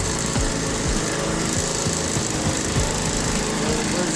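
A 1990 Toro GTS walk-behind lawn mower runs steadily in first gear, its small engine droning loud and close with a constant rough buzz and no talking.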